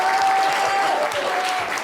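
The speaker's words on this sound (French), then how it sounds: "On peut l'applaudir très très fort, c'est la bonne réponse." Audience applause on a French TV show, a dense burst of clapping that stays loud and even for its whole short span, with a faint tone running underneath.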